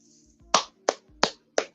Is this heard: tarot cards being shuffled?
no